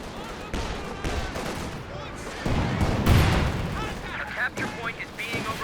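Artillery shells land as indirect fire in a Company of Heroes 2 battle, a dense run of booming impacts and crackling gunfire beneath a commentator's continuous talk.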